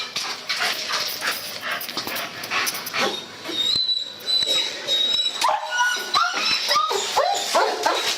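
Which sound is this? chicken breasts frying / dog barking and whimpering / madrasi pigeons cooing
dog barking and whimpering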